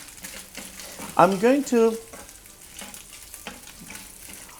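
Rosemary and garlic hit a hot pan and sizzle steadily at low level, a soft crackling hiss running under a man's speech while he cooks.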